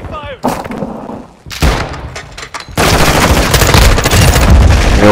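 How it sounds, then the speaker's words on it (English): Gunfire in Call of Duty: Modern Warfare II, loud and close: rapid automatic bursts and heavy booms that start in spurts, then merge into a dense, continuous barrage. "Taking heavy fire."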